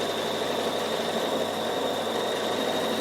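Bernina sewing machine stitching up the side of quilting fabric: a continuous, even motor whir with a fast needle chatter, steady and close, with no one speaking.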